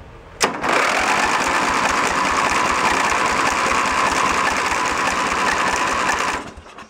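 An old tractor engine with the choke on cranks and tries to fire, a loud, fast, steady mechanical chugging that starts abruptly and runs for about six seconds before cutting off.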